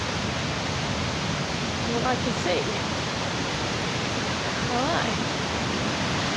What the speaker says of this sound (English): So this is the sound of the waterfall.